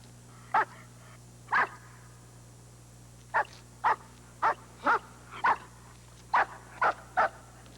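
A dog barks in ten sharp, separate bursts, two early and then a quick run of eight. It is fairly close and clear against a steady low hum, with no talk over it.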